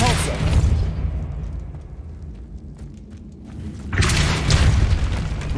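A Depulso force spell blasts in Hogwarts Legacy inside a tomb, a loud booming burst with a rumbling tail that fades, then a second broad crash swelling near the end.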